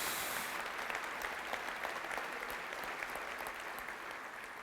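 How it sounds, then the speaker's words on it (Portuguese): A church congregation applauding, a steady dense wash of many hands clapping together that fades a little toward the end, with no talking over it. "Quer aplaudir? Pode aplaudir sim ao Senhor"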